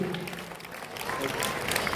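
A school audience at a Christ School family day celebration applauds prize winners with dense, continuous clapping that stays steady for about two seconds.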